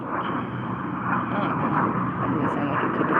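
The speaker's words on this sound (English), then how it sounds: "That doesn't sound like a typical plane." A jet aircraft passes overhead, producing a steady, loud, broad roar that swells slightly and holds for the full few seconds.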